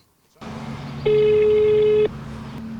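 A single long ringback tone sounds on a telephone line as a call goes unanswered, one steady beep lasting about a second over a low background hum.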